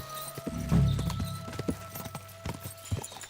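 A horse walks in Kingdom Come: Deliverance 2, a medieval PC game, its hooves clopping in an uneven rhythm of close, distinct knocks with a brief snort mixed in. No voices are heard.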